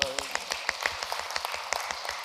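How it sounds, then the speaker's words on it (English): A small audience at a Bedfont and Feltham community area forum gives a thin, scattered round of clapping, heard faint and somewhat distant, with a voice briefly over the start. "Give Jenny a round of applause."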